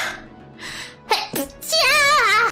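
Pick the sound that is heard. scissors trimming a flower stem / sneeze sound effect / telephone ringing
sneeze sound effect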